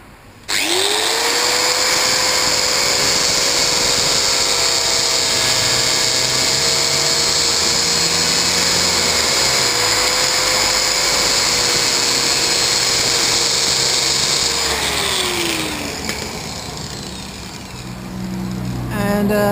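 A metal lathe turns down steel 5/16 pins, giving a loud, steady high-pitched whine that rises at the start, holds for about fifteen seconds, then drops away as it stops.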